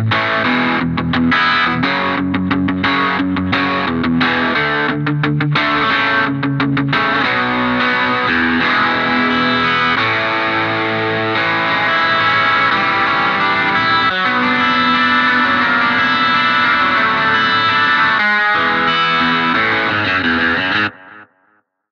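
Electric guitar run through BIAS FX 2 with heavy distortion and a delay set near 365 ms, backing tone, playing loud sustained chords and rhythmic stabs continuously alone, ending abruptly.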